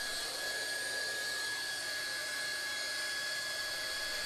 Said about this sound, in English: Hot welding of internal and external miters.